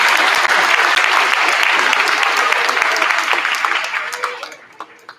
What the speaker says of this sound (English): Let's have one more round of applause for those awesome instrumentalists.